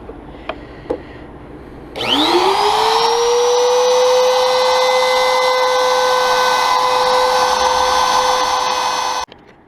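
A router with a router bit cutting a wooden name plate spins up after a few light knocks into a loud, steady high whine that holds for several seconds, then cuts off abruptly.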